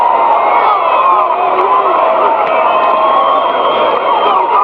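A large stadium crowd cheering and roaring without a break at an American football game, loud and dense, with whoops and shouts rising out of the steady crowd noise.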